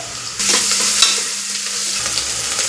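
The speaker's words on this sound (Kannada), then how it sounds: "ಇದು ಸ್ವಲ್ಪ ಫ್ರೈ ಆಗಬೇಕು ನೋಡಿರಿ" Carrots and peanuts frying and being stirred in a pan for pulao, a steady close sizzle with scraping stir strokes throughout.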